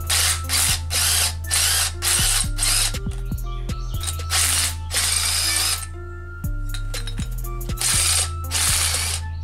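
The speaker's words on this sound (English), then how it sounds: "A little bit more, gonna drill some more out." Loud bursts of a power drill biting into metal on a 1982 Ford Thunderbird during a wheel lug conversion, several runs of a few seconds each separated by mechanical clicks and ratcheting, close by.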